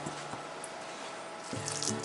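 Water trickles and drips into a bowl of pakora batter made with chilli, salt, cumin powder and garam masala, a soft wet splashing that grows busier near the end, with no voices.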